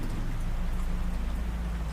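Steady rain falls at night beside a railway station and its tracks, a dense continuous hiss over a low rumble, with no voices.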